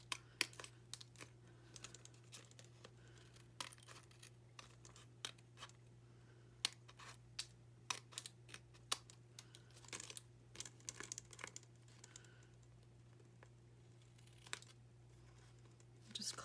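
Scissors trim excess from a paper graduation card with faint, scattered snips and crinkles over a low steady hum, sounding quiet and close.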